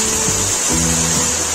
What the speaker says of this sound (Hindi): अगर इसको मैं हल्का सा पानी डालकर इसको अच्छे से कुक करूंगी